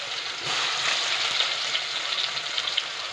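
Green garlic and green onion with cumin and cashew paste frying in a pan, a steady close sizzle with soft stirring crackles and no talking.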